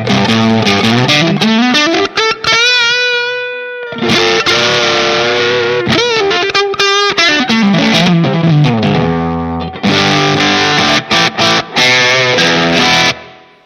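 Electric guitar plays through a Line 6 POD HD500 on the Supero amp model at high drive with bass turned off: loud distorted riffs and sustained bends, dark and thick, alone with brief pauses between phrases.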